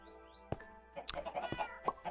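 Minecraft chickens cluck in a quick series of short, close clucks, broken by a few sharp taps and clicks.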